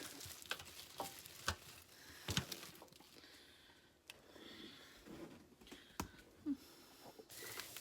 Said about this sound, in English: we are frying 2 cans of onions and 1 chopped onion